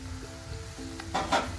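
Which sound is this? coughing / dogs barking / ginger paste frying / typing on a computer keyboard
ginger paste frying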